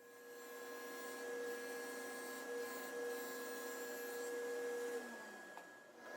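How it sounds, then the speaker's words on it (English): A router cuts a dado into wooden side panels for a mobile router table, giving a steady high whine with a constant tone for about five seconds before spinning down, at moderate loudness with no voices. "So now we're just going to get that dado cut where we're going to put that center divider in"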